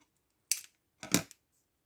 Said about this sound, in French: Je vais recouper un petit peu.